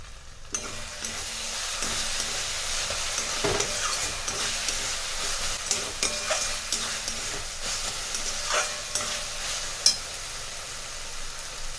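Eggplant bharta with egg fries in oil in a pan, a steady close sizzle with scattered spits and soft stirring scrapes throughout, no talking.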